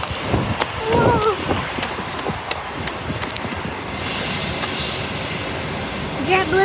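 A JetBlue jet airliner at San Diego airport roars in a broad, sustained rumble from a moderate distance, while people talk and exclaim excitedly over the engine noise.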